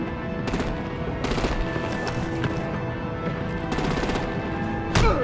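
Sustained gunfire in the video game Batman: The Enemy Within, rapid bursts of shots rattling over a dense battle din, with sharper volleys toward the end and no talking.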